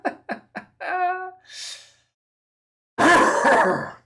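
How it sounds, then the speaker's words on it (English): Three short, sharp coughs come in quick succession, then a voiced throat-clearing groan and a breathy exhale, close to the mic. After a pause a louder burst of raspy vocal noise follows. "I do excuse me for the coughs, guys."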